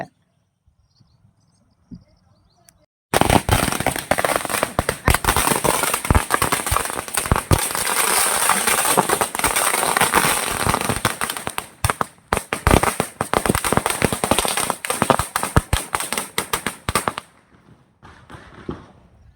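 A long, dense string of Diwali firecrackers bursting in rapid crackling succession, loud and close, starting abruptly after a quiet moment and stopping near the end.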